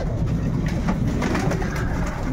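Pigeons in an aviary loft coo continuously at feeding time, a dense, close chorus of low throaty rolling calls with no talk.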